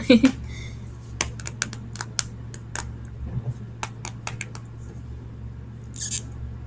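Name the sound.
tapping sounds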